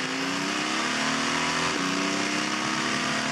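A 5.5 liter V12 diesel race car engine at the 24 Hours of Le Mans holds a steady loud drone at around 5,000 revs, with a brief pitch dip partway through as a gear changes, no voices.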